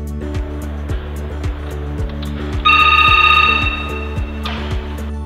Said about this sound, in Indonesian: Standar menerima atau mengakhiri telepon.